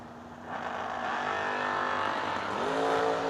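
A Camaro drag racing car roars toward the finish line, its engine note rising as it accelerates, then a second pitch climb near the end, loud and sustained.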